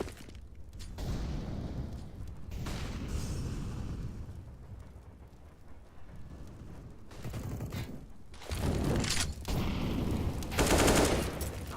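Gunfire in a Counter-Strike match: bursts of rapid automatic shots and single cracks, fairly quiet at first and growing louder near the end, with faint talk in the background.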